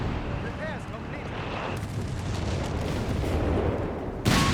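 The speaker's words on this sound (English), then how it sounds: "There's a fair bit of artillery there" Artillery fire in Company of Heroes 3 on the Axis side: continuous low rumbling booms and distant blasts throughout, with a louder burst near the end, under commentary.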